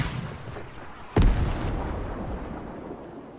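A launcher-type weapon fired in a video game to destroy objects: one sharp, heavy boom rings out near the start, followed by a rumbling decay over steady background noise.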